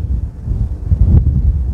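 Wind buffets the microphone in a steady low rumble, gusting slightly stronger near the end, with no voices present.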